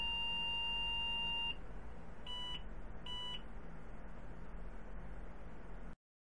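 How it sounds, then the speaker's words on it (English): An old computer with a bad video controller gives out beep codes: a long steady beep, then two short beeps, faint over a constant electrical hum and hiss. "the beeping reaffirmed a bad video controller"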